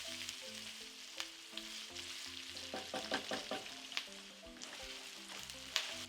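Onions fry with mustard seeds and cumin in a single pan over medium-high heat, giving a steady close sizzle broken by scattered scrapes and clicks of stirring.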